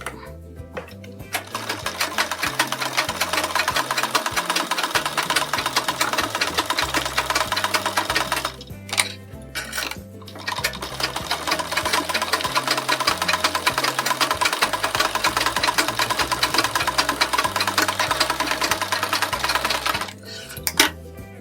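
A sewing machine stitches a blouse sleeve in long continuous runs with a fast regular mechanical rhythm, close and loud, pausing briefly twice before resuming.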